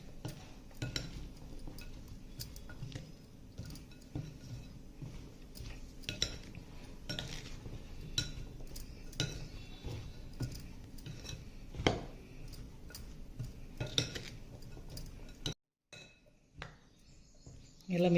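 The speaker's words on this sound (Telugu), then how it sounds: "ఇలా మిక్స్ చేసుకోవాలండి." Carrot pickle being mixed with lemon juice in a bowl, with a busy run of clinks, scrapes and rustles from utensil against dish, steady and close for about fifteen seconds before a short gap and a brief final clatter.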